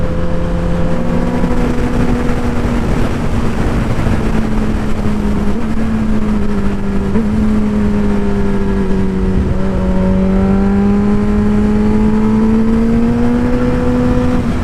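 Motorcycle riding around Solvang, California, its engine note holding steady then climbing through gentle revs under constant loud wind rush, heard from on the bike.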